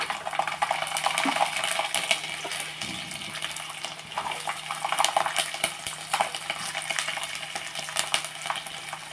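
Garlic frying in oil in a pan on a stove, a steady broad crackle and sizzle with occasional utensil scrapes, close and continuous, no talking.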